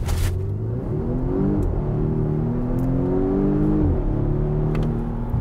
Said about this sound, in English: 2020 Volvo V60. T8 Polestar engineered without launch control.